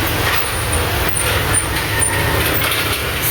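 Road traffic passes along a highway beside a roadside eatery, a steady loud rush of passing vehicles close by, with no talking.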